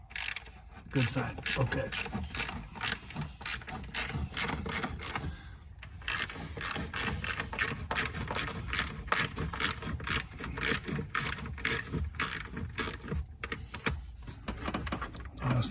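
Hand tools ratchet and click while loosening bolts on a 1981 DeLorean, with rapid repeated clicks and short pauses close by, and someone speaking briefly over the work.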